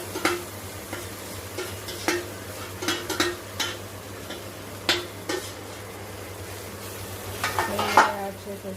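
Soaked sabudana mixed with peanut powder goes into a pan on low heat and is stirred, giving intermittent scraping and clinks of a spoon against the pan over a soft sizzle and steady background hum.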